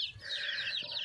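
A broody hen clucks with her chicks in a backyard coop, steady close chicken clucking and soft peeping filling the short moment, with no talk.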